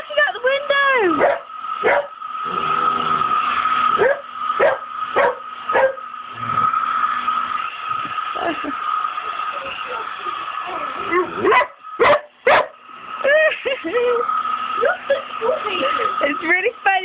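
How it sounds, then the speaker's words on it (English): A small dog barks, yips and whimpers while a hairdryer runs, its steady whir continuing beneath the repeated barks. A person talks in between. "Why are you barking out the window?"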